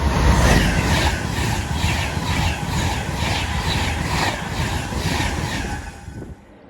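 Class 390 Pendolino electric train running from Liverpool Lime Street to London Euston passes close by at Acton Bridge in Cheshire, a loud steady rush and rumble with rhythmic wheel beats across the rail joints that fades at the end.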